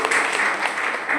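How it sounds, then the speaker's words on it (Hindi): An audience at a public address breaks into a short burst of applause, loud and close, with a voice faintly mixed in. "ताली बजाऊंगा"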